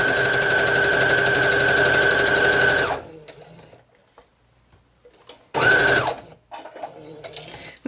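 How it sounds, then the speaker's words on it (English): A sewing machine runs in a fast steady whir for about three seconds while stitching around a microwave potato bag, stops amid faint handling noises, then gives a short second burst and a brief start at the end. "now we're going to sew all the way around"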